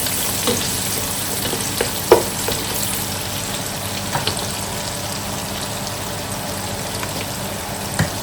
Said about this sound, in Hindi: इसे भी हम थोड़ा सा फ्राई करेंगे, ज़्यादा नहीं करना।